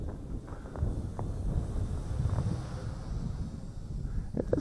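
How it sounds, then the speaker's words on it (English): A steady outdoor breeze buffets the microphone as wind picks up during a drone flight, a continuous low rumbling roar with gusty swells that holds fairly level throughout, with no talking. "I guess that breeze is picking up a bit."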